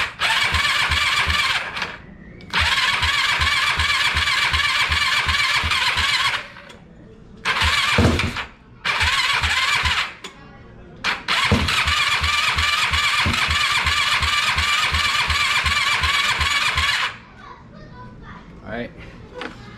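A Yamaha YFZ450 quad fires up after a top-end rebuild, the engine catching in several loud bursts separated by short pauses, revving and sputtering close by before dying away, with brief talk between attempts.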